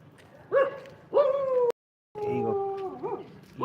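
Dogs in a village bark and howl close by, with long, loud drawn-out calls in two bursts split by a brief silence.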